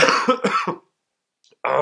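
Harsh throat-clearing coughs in a quick burst, close up, followed by a short silence and another rough cough.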